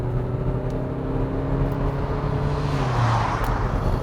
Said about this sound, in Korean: 그럼 지금부터 쉐보레 이코녹스와 함께 달려보겠습니다